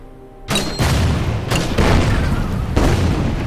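Mortar rounds fire at a tank in the Order of Battle Winter War strategy game, Karelian Isthmus battle: a quiet lead-in, then a loud sudden boom followed by several more heavy, rumbling blasts in quick succession, with no talk.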